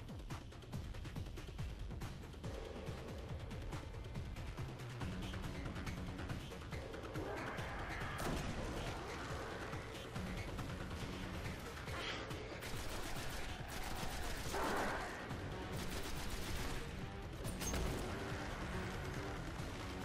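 Weapons in the Destiny shooter game fire in dense, rapid volleys, mixed with booms and mechanical clatter in a loud, continuous battle din, with someone occasionally talking underneath.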